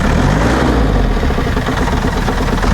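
An old army van's engine runs with an air leak, a broken accelerator and air-filter trouble, giving a loud, steady, close-up rumbling drone that holds throughout with no talking.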